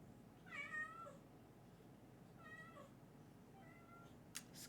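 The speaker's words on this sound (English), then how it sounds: "You're meowing at nothing." A cat meows three times, each cry drawn-out and fairly quiet, spaced a second or two apart over a low background hiss.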